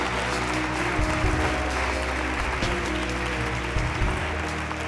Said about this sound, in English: Now give God a hand clap of praise like you're grateful to it.